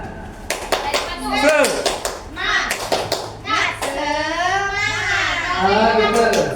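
A group of children and adults performing the rhythmic 'tepuk semangat' clapping chant, sharp patterned hand claps interleaved with chanted voices, close and lively with talking throughout.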